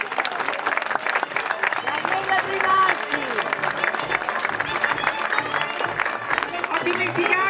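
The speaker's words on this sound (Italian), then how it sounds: "Ancora un applauso e grazie a tutti." Sustained audience applause at a theatre performance, dense and steady throughout with scattered cheers and crowd voices mixed in, loud and close.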